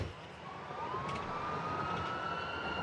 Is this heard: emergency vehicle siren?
yes